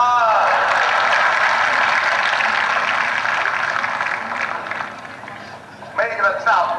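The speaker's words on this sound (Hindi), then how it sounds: "और व्यंग पर आपकी तालियां उठेंगी" Audience applause at a Lucknow mushaira poetry recital, a dense sustained clapping that fills the space and gradually thins out, with a short burst of cheering voices near the end.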